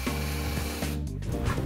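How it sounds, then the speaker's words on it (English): A power drill with a Forstner bit bores into wood, giving a steady loud whirring hum with slight shifts in pitch and grinding as the bit is moved back and forth. "When you're using a Forstner bit, move the drill back and forth so you're kind of eating away at the wood slowly."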